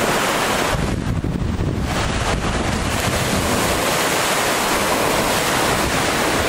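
Waves wash steadily onto the shore of Lake Victoria in Uganda, a loud, continuous broadband roar with no pause or voices throughout.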